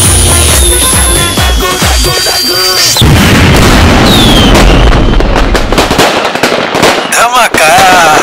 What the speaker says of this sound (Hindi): अब होगा धमाका, धमाका होगा धमाका, धमाका धमाका होगा